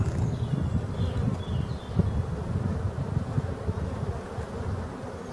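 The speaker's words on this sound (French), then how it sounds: "Il y a vraiment des abeilles très courageuses." Black honey bees buzz as a steady, low, dense hum near their forest hive in Brittany, close and continuous, with no voices.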